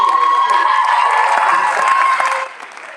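An audience at a college spring jazz band concert claps and cheers loudly, with whoops and screams over steady applause that drops away near the end.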